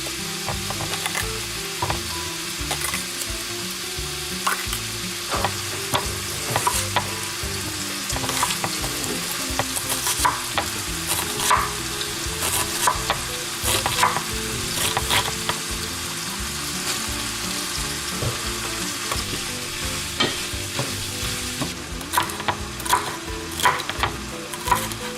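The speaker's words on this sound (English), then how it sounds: "we'll put it right over in the pan with the ground beef and sausage" Chopped green bell pepper and onion sizzle steadily in a pan with browning ground beef and Italian sausage, a continuous close frying hiss broken by occasional stirring scrapes.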